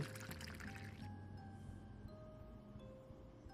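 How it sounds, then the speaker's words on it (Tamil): Water pours from an opened tap into a water can, a steady splashing rush for about a second that gives way to a thinner trickle over a low hum. "ஓப்பன் பண்ணுறான் தண்ணி வாட்டர் கேனில் விழுகுது"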